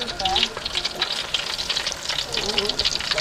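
Food sizzles and crackles steadily in hot oil, a dense hissing spatter throughout, with faint voices in the background.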